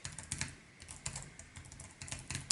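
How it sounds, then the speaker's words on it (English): Rapid clicking of keys on a keyboard paired with an iPhone or iPad, close up, in uneven bursts with brief pauses between. "so that's typing"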